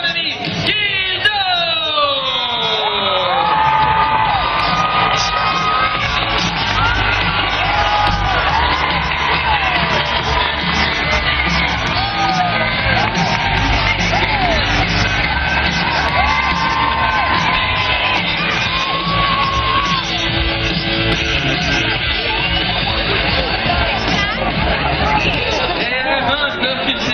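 Large rodeo crowd in Bedford, Quebec cheering, whooping and yelling in a steady loud roar for an announcer, with babble and shouts throughout.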